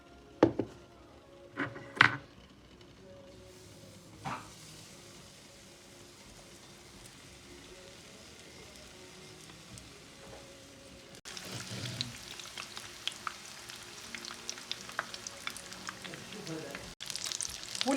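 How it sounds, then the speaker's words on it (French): Moroccan potato beignets (maakouda) dipped in batter fry in hot oil. After a few soft kitchen clinks and a quiet stretch, a close crackling sizzle takes over and pops and spits steadily to the end. "Je les passe dans le mélange et je les mets à frire."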